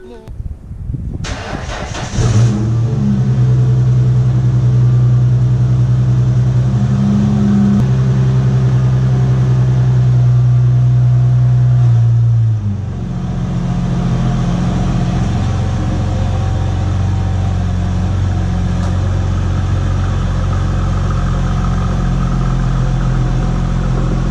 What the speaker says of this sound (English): Alright, let's start the car.